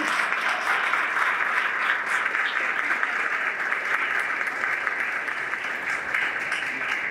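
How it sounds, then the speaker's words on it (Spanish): Steady, sustained applause from a lecture audience for the speaker of a keynote talk on 5G geopolitics, dense and even throughout without letting up. "Vamos a dar un aplauso más fuerte para nuestro conferenciante."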